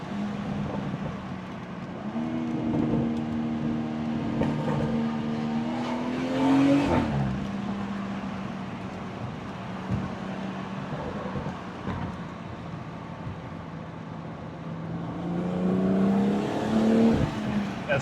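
A car engine revs up through rising gear pulls, easing off then climbing again near the end, steady and close as if heard from inside the cabin, with no talking.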